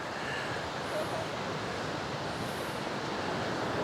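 Surf rolls onto Kuta Beach in Bali in the early morning as a steady, fairly faint wash of waves with no clear breaks.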